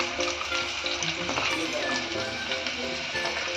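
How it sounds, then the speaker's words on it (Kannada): Chopped onions dropped into two tablespoons of hot oil with curry leaves for a village-style mutton curry, frying with a steady dense sizzle and crackle, with a voice talking over it in places. "ಮೊದಲಿಗೆ 2 ಟೇಬಲ್ ಸ್ಪೂನ್ ಎಣ್ಣೆ, ಹೆಚ್ಚಿಟ್ಕೊಂಡಿದ್ದು ಉಳ್ಳಾಗಡ್ಡಿ ಹಾಕ್ರಿ"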